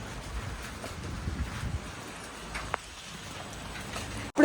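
Steady rain falls on a covered shed sheltering Ganesh idols in Korutla, a soft continuous hiss with scattered drop patter throughout, closing with a sudden loud knock at the very end.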